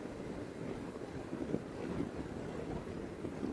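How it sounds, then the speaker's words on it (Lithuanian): Strong wind roars past a motorcycle riding at normal speed on a flat open road, a steady dense buffeting rush with no breaks and no talk. "belė kaip siaučia vėjas"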